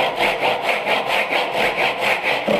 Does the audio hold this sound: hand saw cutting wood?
yes